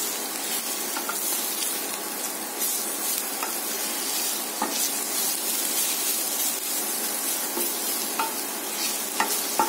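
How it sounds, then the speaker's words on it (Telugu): Sliced ridge gourd fries in hot oil in a pan, giving a steady, loud broadband sizzle that runs the whole time, with occasional clicks and scrapes from stirring and no voices. "ఆయిల్ బీరకాయ ఫ్రై అవుతుంది కదా"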